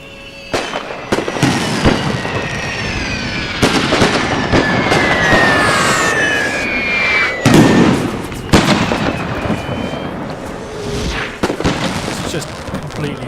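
Rapid bursts of gunfire from machine gun bunkers in NTW: The Great War, a First World War strategy game, crackle and pop densely throughout, loud and continuous, with scattered booms and voices mixed in the battle din.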